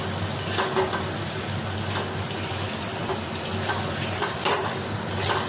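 Chicken curry sautéing in oil in a pan, a steady close sizzle with scattered clinks and scrapes of a spoon stirring, no voices over it.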